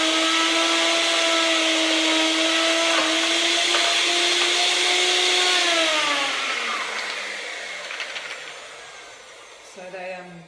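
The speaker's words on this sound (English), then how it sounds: "they make the blender not blend very well" A kitchen blender blending nuts whirs with a loud, steady motor drone for several seconds, then winds down in falling pitch, followed by a brief restart at the end.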